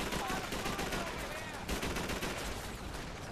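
Sustained automatic weapon fire and scattered shots in Call of Duty 3 rattle steadily and fairly quietly, overlapping bursts forming a continuous battle din.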